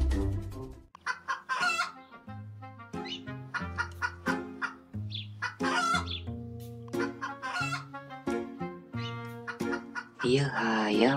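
Animated Minecraft chickens cluck and a rooster crows in a chicken coop, repeated bird calls in quick irregular bursts alternating with voices talking over and between them.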